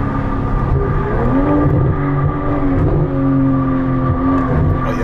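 BMW M340i car engine pulling hard at close range, a loud steady drone with tones that climb and drop as revs shift through downshifts, heard from inside the car.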